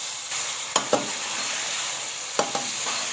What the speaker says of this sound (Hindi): और अब हम इसको 10 मिनट तक भूनते हैं।